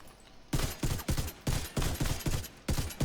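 Bursts of rapid automatic weapon fire in the Division 2 shooter game, several sharp loud volleys separated by brief pauses, close and punchy with no talk.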